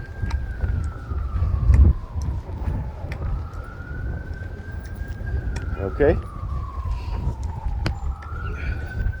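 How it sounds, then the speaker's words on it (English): Emergency vehicle siren wailing outside an apartment building, a slow rising and falling tone sweeping continuously at moderate distance, with a brief spoken word and background noise. "You hear the sirens?"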